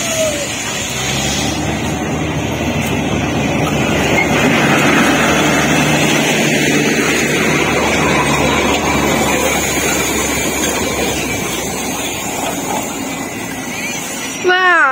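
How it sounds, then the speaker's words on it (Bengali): The Darjeeling toy train comes in as a steady low rumble with engine drone, heard under a continuous wash of crowd chatter and voices at a station. A rising tonal whistle-like sweep sounds at the very end. "ওই দেখো টয় ট্রেন চলে এসেছে।"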